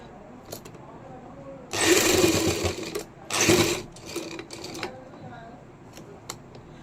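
A sewing machine stitches a kameez neckline in two loud bursts of rapid whirring, one longer and one shorter, separated by brief pauses and soft handling clicks.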